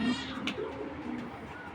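Racing pigeons giving a short low coo, close by, with soft rustling and faint background noise around it.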